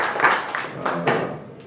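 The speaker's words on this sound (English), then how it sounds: "A hand of applause for Mr." Applause from a seated audience at a film panel discussion in Bhopal, a short burst of clapping in a hall that swells and fades over under two seconds, with faint voices mixed in.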